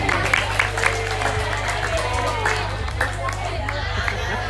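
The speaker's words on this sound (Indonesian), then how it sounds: "Tepuk tangan." Audience at an Islamic sermon gathering in Jakarta breaking into applause, a dense crowd of hand claps with some cheering, fairly close and mixed with a steady hum and murmuring voices.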